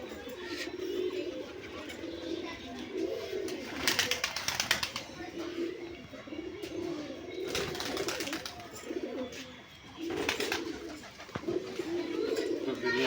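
Giribaz pigeons coo in low, repeated rolling phrases, close by, with bursts of wing flapping and rustling between them; people talk nearby.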